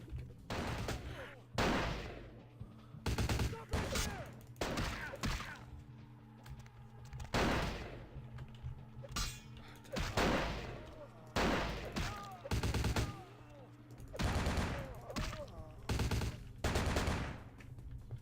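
Gunfire in Vampire: The Masquerade - Bloodlines, with repeated loud bursts of shots and short volleys separated by brief pauses, plus some game sounds in between.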